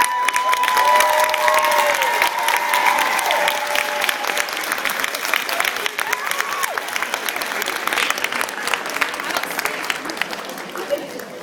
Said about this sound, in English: give them applause and say thank you